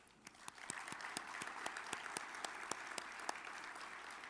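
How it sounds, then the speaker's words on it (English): Audience applause at a tornado summit general session, fairly quiet and distant, with a steady bed of clapping and a few sharper individual claps standing out throughout. "give all of our exhibitors a round of applause"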